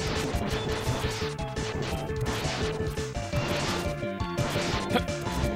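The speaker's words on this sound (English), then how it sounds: "start firing your homing torpedoes" Homing torpedoes launched in the Mega Man X video game, loud repeated crashing impacts and blasts over busy chiptune music, with no talk.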